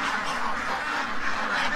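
Ducks honking and quacking in a continuous, fairly close chorus around a backyard pen area with grass, no talking heard.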